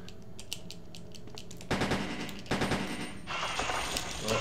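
Automatic pistol fire in the Resident Evil 1.5 prototype, short bursts of rapid shots in a couple of clusters, moderately loud over game ambience with no talk.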